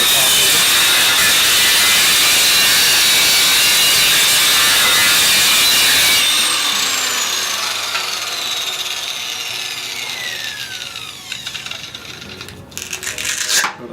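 A variable speed angle grinder fitted with an 800 grit dry polishing pad puts a small bevel on the top edge of a stone slab, a loud steady whine and grinding rasp that eases off and becomes rougher midway through.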